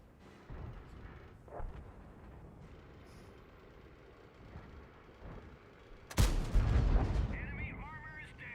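A tank cannon fires a heavy, booming long-range shot in a tank combat video game, a loud blast rising over a steady low rumble of engine and battlefield noise, followed by rolling echo and mechanical clatter.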